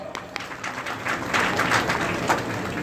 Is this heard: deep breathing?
no